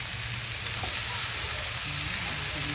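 Shredded cabbage, carrot and Baguio beans stir-fried in a hot pan for lumpiang toge, a steady close hiss and sizzle with faint stirring scrapes.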